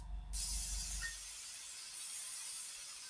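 A short burst of hissing spray from a can of acrylic paint being applied as primer, loud and close, holding as a continuous hiss for a few seconds after a brief low thump at the start.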